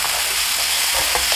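Black bean paste mixed with sugar and salt stir-fries over high heat in a wok for Chinese-style minced-pork jajang, giving a steady close sizzle with soft scraping stirs throughout and no talking.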